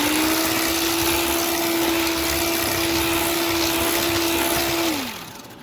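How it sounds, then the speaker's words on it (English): An electric mixer beats an egg into extra virgin olive oil with brown and white sugar, a steady, close motor whine holding one pitch, then winding down as it switches off near the end, with no talking. "Beat in 1 egg at a time."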